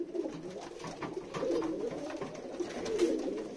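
Soft, low pigeon cooing repeats steadily, several birds murmuring close by with no talking.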